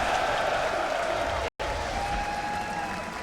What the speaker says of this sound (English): The crowd is going to cheer so loudly when it's in his inventory